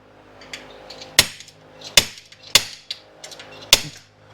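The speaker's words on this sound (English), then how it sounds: "We can center punch our screw hole." A hammer strikes a center punch against a metal plate for a truck bag bracket in a shop, giving four or five sharp, close metallic taps at irregular intervals over quiet background noise.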